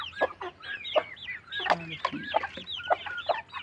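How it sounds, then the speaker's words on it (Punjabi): A silkie hen clucks in short, repeated bursts, mixed with faint high peeping from her chicks, close and clear over quiet background. "ਸੀਲ ਮੁਰਗੀ ਦੇ ਬੱਚੇ ਵੀ ਆ"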